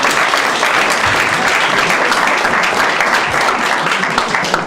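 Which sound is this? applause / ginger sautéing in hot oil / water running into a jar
applause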